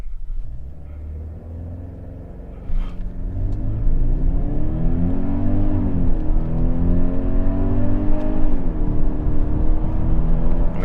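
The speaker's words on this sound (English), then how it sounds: "let's do a quick little acceleration" A 2021 Genesis GV80 2.5T Prestige 4WD SUV accelerating from inside the cabin, its engine note rising in pitch as it pulls, with a jump in loudness and a gear shift partway through, steady road rumble underneath, no talking.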